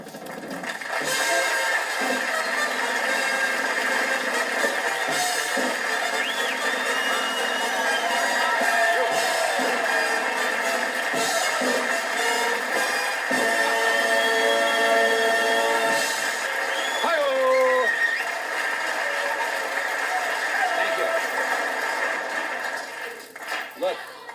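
A studio audience cheers and applauds Johnny Carson in a long, loud, unbroken roar of clapping and shouts, with a voice speaking over it toward the end.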